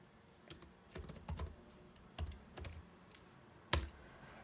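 Typing on a computer keyboard: scattered, uneven keystrokes close by, with a few quick bursts and one sharper, louder tap near the end. No one speaks.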